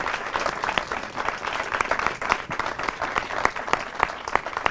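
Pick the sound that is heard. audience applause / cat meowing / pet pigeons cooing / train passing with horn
audience applause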